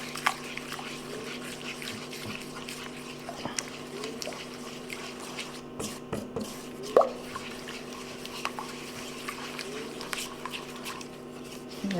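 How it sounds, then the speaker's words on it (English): Vanilla pudding mix is stirred with half a cup of milk in a bowl as it thickens for a no-bake pumpkin cream cheese pie. Soft wet plops and squishy scrapes repeat steadily, close up, over a faint constant hum. "we just need to stir this until it becomes thick"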